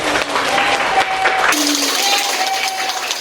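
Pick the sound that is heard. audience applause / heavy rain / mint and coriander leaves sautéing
audience applause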